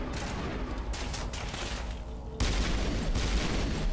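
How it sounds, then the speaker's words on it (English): A triple-shot pistol in Mass Effect Legendary Edition fires in loud, close bursts, with a sharp jump in intensity partway through and no talking. "Oh, this is a triple shot pistol."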